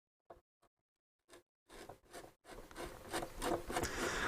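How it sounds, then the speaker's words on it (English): Screws on a Bush DAC 10 radio being very gently loosened, a few brief scratches followed by a longer stretch of close, gritty scraping and rubbing with no voices. "Just very, very gently loosening these screws."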